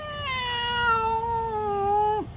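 A human voice imitates a cat with one long, drawn-out meow that holds steady and then drops at the end, clear and close, read aloud as part of a children's story about a cat.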